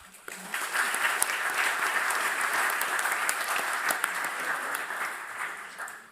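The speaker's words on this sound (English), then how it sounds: "So please, a round of applause for them." Brisk, steady applause from the audience at an honours programme closing ceremony swells in after a quiet start, with sharp individual claps standing out, then eases slightly at the end.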